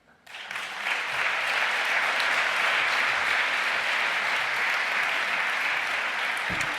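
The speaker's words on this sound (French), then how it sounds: "mesdames et messieurs, on l'applaudit" An audience at an evening gala on civic engagement bursts into applause, rising quickly from near silence within the first second to a full, sustained ovation of many hands that holds steady to the end.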